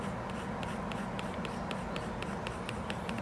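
A pencil shades lightly across paper in steady, soft strokes that repeat in a regular scratching rhythm, close and alone with no talking, while a drawing is worked up to give it depth.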